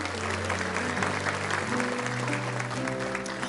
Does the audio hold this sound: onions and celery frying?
no